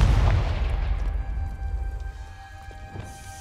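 A Confringo fire spell detonates in the Hogwarts Legacy video game, a loud booming blast at the start that rumbles and fades over a few seconds, with no voices.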